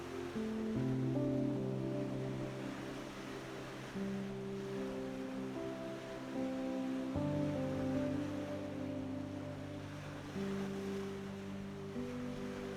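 Ocean surf crashing along the cliffside coast of Rancho Palos Verdes makes a steady broad wash of waves, moderately soft and continuous beneath a sustained musical backing.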